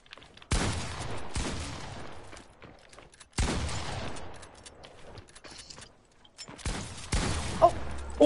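Rapid gunfire in a shooting video game comes in three loud, dense bursts of fusillade, each trailing off before the next volley, with short gaps of near silence between them.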